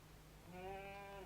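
A goat bleats outdoors in an old Indonesian film scene: a single faint, wavering bleat that starts partway in and holds steady over a low background hiss.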